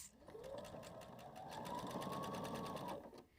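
A sewing machine stitches two fabric pillow panels together along a ribbon in one continuous run of rapid, even needle clatter lasting about three seconds, close and fairly quiet, with a humming motor tone rising slightly before it stops.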